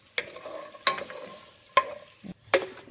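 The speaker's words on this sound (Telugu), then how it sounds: "కొంచెం గోల్డెన్ బ్రౌన్ క్రిస్పీ అయ్యేలాగా ఫ్రై చేసుకోవాలి." Ingredients for Hyderabadi haleem fried in a pan until golden brown and crispy, giving a quiet sizzle broken by a few distinct stirring scrapes and clinks at irregular intervals, with no talking.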